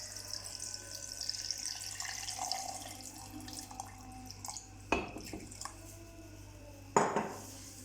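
Water pours into a cooking pot while plum juice is being made, a running, splashy wash broken by two sharp metallic clanks of the pot and utensils.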